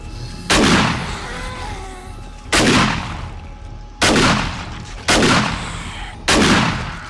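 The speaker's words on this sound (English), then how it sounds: "Shotgun stuff." Five loud, booming shotgun blasts from the video game 7 Days to Die, each a sharp crack with a long decaying tail, spaced one to two seconds apart, no talking.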